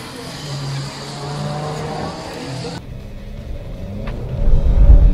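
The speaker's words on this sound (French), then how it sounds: "On va faire un petit tour de circuit en Alfa Giulia." An Alfa Romeo Giulia running on a race circuit, its engine droning steadily with tonal whine, then an abrupt shift into a deeper, louder rumble that swells toward the end; close-up interior sound.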